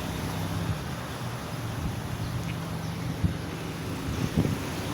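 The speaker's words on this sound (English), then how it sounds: "She's just pretty windy right here." Wind gusts across the microphone on Wolf Island, a steady rough rumbling buffet with a few louder bumps, with no talking over it.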